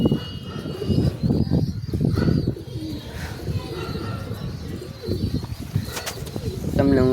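Domestic flying pigeons in a loft with nesting pairs, eggs and young chicks coo softly up close, with bursts of wings flapping, and a person talks briefly in the background.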